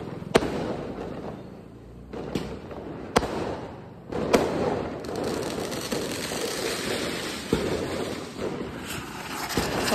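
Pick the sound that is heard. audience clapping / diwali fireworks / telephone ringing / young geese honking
diwali fireworks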